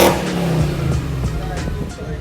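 A BMW X5 4.8i (E53) with the N62 V8 engine and sport headers revs hard close by. Its deep, throaty exhaust note rises and holds with a slightly strained resonance, loud and alone.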